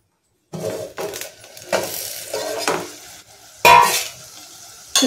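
Prawns sizzle and fry in hot oil in a pan for biryani, with steady crackling, stirring scrapes and a few sharp clinks of a utensil against the pot.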